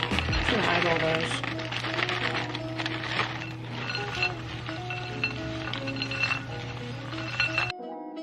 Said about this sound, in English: I'm just gonna stir it.